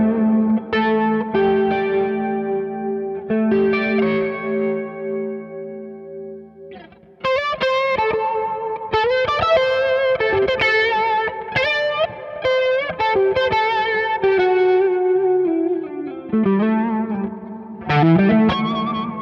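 An electric guitar with 5909 pickups plays through a Valeton CH-10 analog chorus pedal into a Kraken amp, giving shimmering, wavering chords and single-note lines. The playing is slow at first, then busier, with no talking.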